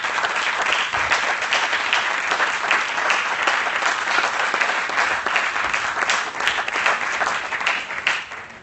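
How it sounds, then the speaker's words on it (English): An audience applauds at an expo event with sustained, dense clapping that holds steady throughout before tapering off at the end. "And can I ask you a big round of applause for that?"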